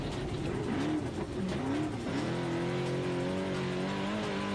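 A single-seater race car at a Kalgoorlie motorsport event accelerates hard off the start line, engine note climbing and holding a loud sustained roar over outdoor crowd noise.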